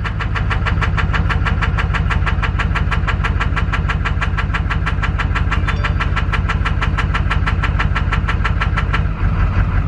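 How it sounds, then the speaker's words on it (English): Duramax diesel pickup engine running with one cylinder's fuel cut during a diagnostic test, a loud, close, rapid and perfectly regular metallic knock riding over the idle, with a brief drop near the end. "See, it's knocking."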